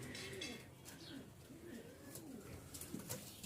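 Giribaz pigeons at a pigeon farm in Rajshahi coo in soft, repeated low hums, several birds overlapping close by against steady background noise, with a few brief chirps and faint voices in the mix.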